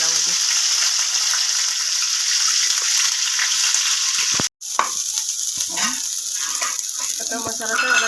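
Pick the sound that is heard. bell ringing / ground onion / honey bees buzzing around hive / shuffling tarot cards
ground onion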